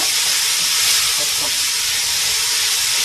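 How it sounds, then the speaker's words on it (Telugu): Mutton keema frying in a hot pan without any oil gives off a loud, constant hissing sizzle. The sound is steady and close throughout, with faint low clatter beneath it. "ఇప్పుడు మనము మటన్ని ఆయిల్ లేకుండా ఫ్రై చేసుకోవాలి"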